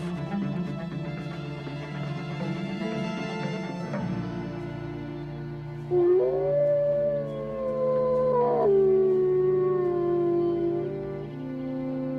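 A wild boy imitates a wolf with a long, loud, wavering voiced howl, rising and then slowly falling, preceded by a lower growling tone over a background music bed.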